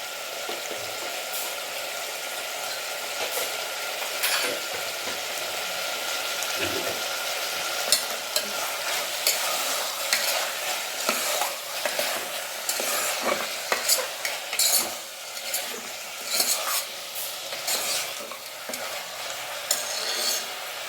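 Food, with turmeric powder added, is stirred and mixed in a frying pan over a steady sizzle, with a utensil scraping and knocking against the pan in irregular bursts that grow busier toward the end. No one speaks.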